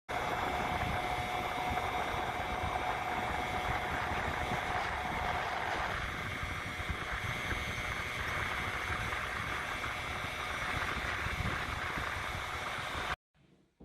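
Continuous buzzing engine drone from a Piaggio Zip scooter on a test ride, heard close and steady with heavy wind rush over nearly fourteen seconds, a whine that shifts pitch midway, then an abrupt cut to silence.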